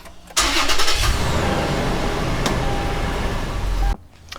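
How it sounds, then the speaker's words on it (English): A Toyota 4Runner engine cranks and catches with a loud burst, then settles into a steady close idle for about three and a half seconds before cutting off abruptly. "I'll basically just start the car, put it in reverse, come back and see if it's working"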